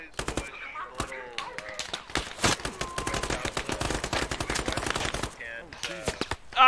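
Rapid bursts of gunfire in the military shooter game Squad, sharp repeated shots and automatic fire at close range, loud and dense with short pauses between volleys.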